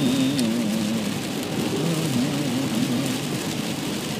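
Steady rain pattering while a vehicle drives along, a continuous close wash of noise with a low hum beneath and no voices.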